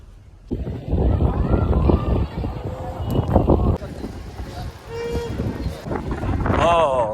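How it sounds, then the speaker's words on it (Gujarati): Strong wind buffets the microphone at the Somnath seashore, gusty roaring bursts that come and go, with people talking close by. "પવન છે ભાઈ"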